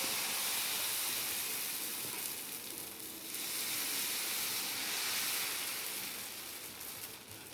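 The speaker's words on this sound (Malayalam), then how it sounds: "സുന്ദരമായ മാവ് നമുക്ക് ദോശച്ചട്ടിയിലോട്ട് ഒഴിക്കാം." Dosa batter sizzles on a hot, oiled dosa pan in a steady close hiss that swells and eases slightly, with no talking.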